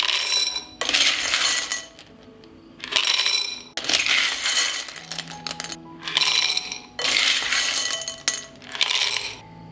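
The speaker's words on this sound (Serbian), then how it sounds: "I zatim ću napuniti tegle sa testeninom." Dry pasta pours in bursts into a dry glass jar, a rattling, clinking cascade in several pours separated by brief pauses.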